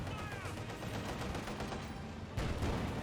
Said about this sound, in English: the pack howitzers engage this garrison